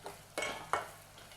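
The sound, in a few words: masala frying in a pan for prawn biryani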